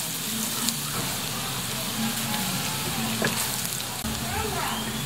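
Chopped garlic frying in a pan makes a steady, close crackling sizzle with dense spattering, while a voice talks at times over it.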